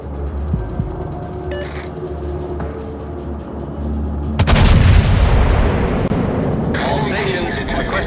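Heavy guns of the Colorado, a tier 7 battleship in World of Warships, fire a deep booming salvo that erupts partway through and rumbles away over steady engine and sea noise, with a brief spoken line earlier.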